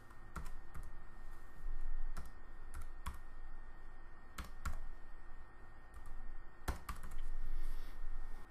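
Someone types a name on a computer keyboard, with sparse, irregular key clicks spread across several seconds, some in quick pairs, over a steady low room hum in a quiet indoor space, with no speech.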